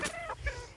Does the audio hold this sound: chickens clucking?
yes